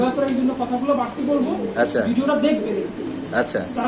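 Pigeons cooing in a loft, a steady layering of low throaty coos running throughout and continuously overlapped by people talking nearby.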